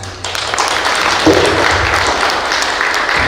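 Applause from the audience at an inter-college debate competition in a hall, a dense, steady wash of clapping that carries evenly through the whole stretch.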